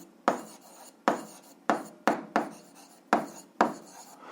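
A pen writing on paper, sharp scratchy strokes that each start with an attack and then rasp briefly, about eight of them in an uneven rhythm, close and clear with no voices.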